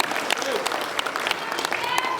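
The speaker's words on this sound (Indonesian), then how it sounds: "Tepuk tangan tuh mereka." Audience at a labor union congress in Indonesia claps in a short, dense burst of applause that stays steady from start to finish, with voices mixed faintly into the crowd noise.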